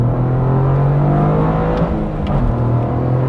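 Toyota GR Corolla engine revving on throttle while driving in snow, a loud close steady drone that dips briefly with a quick blip before pulling again, no talk over it.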